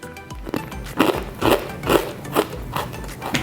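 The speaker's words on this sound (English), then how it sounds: "so crunchy. Let's give it a taste." Crunchy fried murukku (chakli) is bitten and chewed close to the mic, giving a steady run of sharp, crisp crunches about every half second.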